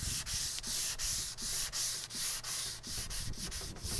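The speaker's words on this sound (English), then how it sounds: "we're just going to go around the dome and sand out all of our" Bondo glazing putty on an R2-D2 dome being hand-sanded in steady back-and-forth strokes, a close, continuous raspy scrubbing with regular rhythmic pulses and no talk.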